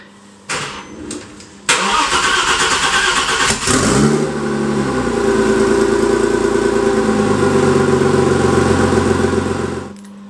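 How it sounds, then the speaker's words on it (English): An Audi S4 engine cranks and catches, then settles into a steady, loud exhaust rumble through both pipes that runs on for several seconds before cutting off. "So I'm going to start it up again, recording the exhaust"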